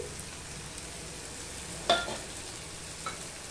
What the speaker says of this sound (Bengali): দিয়ে দিলাম একটুখানি জল, দিয়ে মশলাটা ভালো করে আমি কষিয়ে নেব।